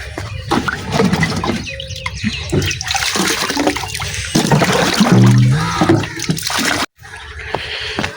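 Water gushing and splashing from a newly installed tubewell motor, a loud, uneven rush near at hand with bursts and trickles, voices talking over it, then a brief cutout before the flow resumes.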